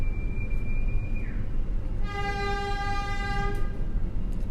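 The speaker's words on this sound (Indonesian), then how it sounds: "Iya betul, kereta api Tawang Jaya Premium." The Tawang Jaya Premium passenger train passes with a steady low rumble of wheels on rails, then sounds a long, loud, multi-tone horn blast lasting about a second and a half, with no talking.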